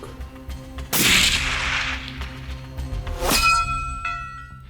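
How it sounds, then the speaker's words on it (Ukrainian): A loud rifle shot, then a couple of seconds later a sharp metallic clang from a steel gong target hit at 500 metres, ringing on with a fading tone, heard at a distance. "Гонг! Влучання."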